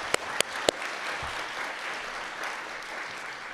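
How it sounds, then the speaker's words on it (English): An audience at a science awards ceremony bursts into sustained applause after a few sharp claps at the start, a steady wash of clapping with no voices. "let's give a big round of applause."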